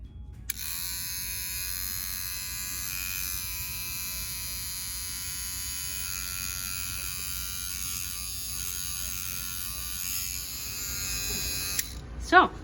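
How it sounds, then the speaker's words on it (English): An old electric toothbrush buzzes steadily and evenly while pollinating indoor hydroponic tomato flowers, a thin, close whine that holds for about twelve seconds before stopping with a few small clicks. "you turn on an old electric toothbrush and you do this"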